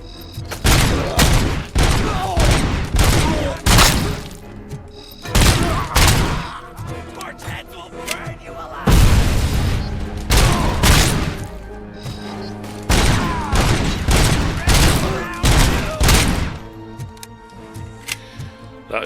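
Gunfire in the RoboCop Rogue City video game comes as heavy, close bursts of shots in repeated volleys with brief gaps, punctuated by booming impacts and a mechanical rumble underneath.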